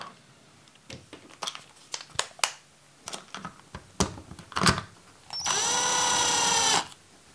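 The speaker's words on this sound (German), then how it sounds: "Bloß kurz mit dem Akkuschrauber und den Rest dann eben von Hand dann wieder schrauben." Small clicks and taps come as parts of an RC car differential cover are handled. A cordless screwdriver then whirs steadily for about a second and a half while driving in the cover screws, close and loud.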